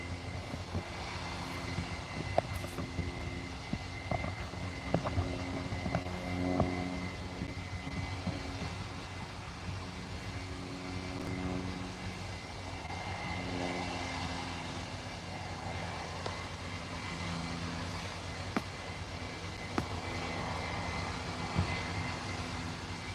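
A Ryanair airliner from Barcelona arrives at Liverpool Airport with a distant, steady engine drone, the jet's whine rising and falling over a low rumble.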